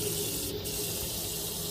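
Water runs steadily from a tap through a newly installed tap water filter, making a continuous close-up rushing hiss with no talking.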